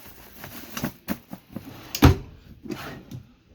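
Drawers inside a Pioneer BH250 camper slide and bang open and shut, a series of clattering knocks with one sharp, loud slam in the middle, close by, and no speech.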